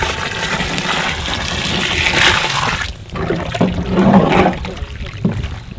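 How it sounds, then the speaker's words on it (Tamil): Water gushes and splashes steadily into a cooking pot for vegetable biryani, then a brief pause before more pouring and sloshing. "அடுத்தது தண்ணி ஊற்ற போகிறோம்."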